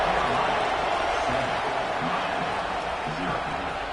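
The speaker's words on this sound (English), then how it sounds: "They're set to kick it off, and this crowd now ready to get behind them." A college football stadium crowd keeps up a steady, dense roar before a kickoff, with a sportscaster talking over it throughout.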